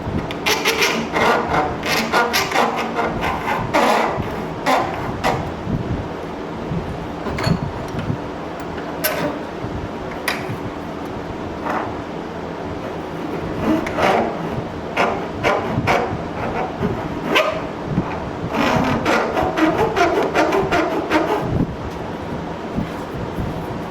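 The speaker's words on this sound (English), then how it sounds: "So I'm going to get my file and do that now." Hand file rasping on a habaki, the metal blade collar for a Japanese sword, with repeated short strokes that come in bursts. The strokes are close and fairly loud over a steady background noise, and nobody speaks.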